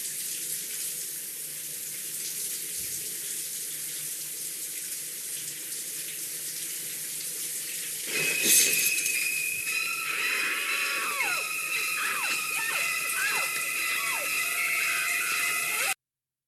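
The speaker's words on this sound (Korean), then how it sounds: "샤워를 하고 있는 메리언" Shower water runs in a steady, loud hiss during the shower scene of the film Psycho, continuing unbroken while higher tonal sounds enter partway through.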